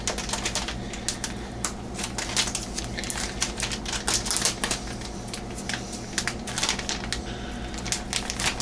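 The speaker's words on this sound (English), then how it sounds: "Now, we take our bag cheese, which is the pizza blend, Kroger blend. Open it up carefully." A plastic bag of shredded Kroger pizza-blend cheese is opened and handled up close, giving a steady run of crinkly rustles and small crackling ticks with no talking.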